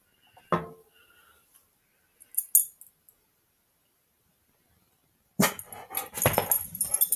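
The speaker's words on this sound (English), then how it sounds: "You hear the doggy?" A dog barks once sharply and close, then gives a softer short bark a couple of seconds later, followed by a burst of louder, busier barking and noise near the end, with quiet gaps in between.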